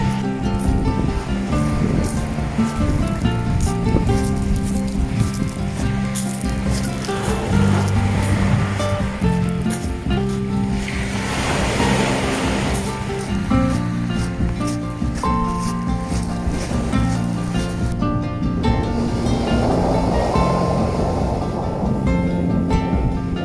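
Ocean waves roll and break steadily on a beach at Haida Gwaii, Canada, making a continuous broad wash of surf with no talking.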